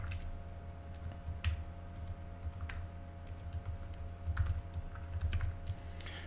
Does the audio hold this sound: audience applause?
no